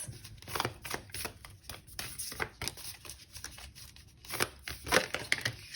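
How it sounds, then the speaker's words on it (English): Quick riffling bursts of cards being shuffled, several rapid flutters and taps close up, no voices. "really easy to shuffle cards."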